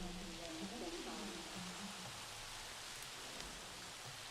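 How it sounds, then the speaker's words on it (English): Steady rain falls in the Jurassic World video game, a continuous broadband hiss of drops with faint voice-like murmurs early on, low and even throughout. "Well, I was hoping for a nice clear day, but I guess we've got rain today"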